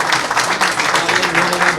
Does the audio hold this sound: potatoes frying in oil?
no